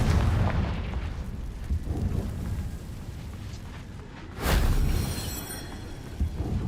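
A Confringo fire spell explodes in Hogwarts Legacy, a loud rumbling blast with crackling fire, then a second sharp burst midway that decays into a rumbling tail.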